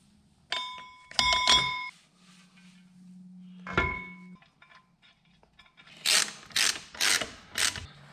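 A torque wrench on an Infiniti G35 clutch install with a VQ35DE engine gives a few sharp ratcheting clicks and metallic clinks, then a quick series of loud, bright clicks near the end, close and in a quiet workshop.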